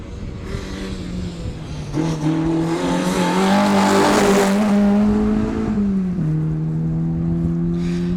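A Ford Fiesta ST rally car drives a special stage, its engine revving loudly through the gears as it passes close by, the pitch rising then dropping with a tyre squeal and gravel noise.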